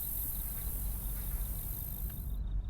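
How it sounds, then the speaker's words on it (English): Crickets chirp in a steady, high-pitched trill against a quiet night background, with a low hum underneath. "Luckily there were a few crickets still singing"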